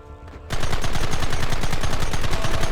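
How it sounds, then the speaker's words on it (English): Dense, rapid gunfire in the video game Red Dead Redemption, a loud continuous stream of closely spaced shots bursting in after a brief quieter lead-in and hammering steadily without pause. "There they are! Open fire!"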